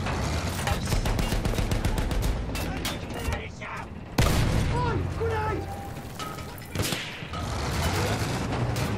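In a Battlefield 1 campaign battle, a grenade explosion booms amid sustained rifle and machine-gun fire, loud and dense, with voices in the mix of the chaos.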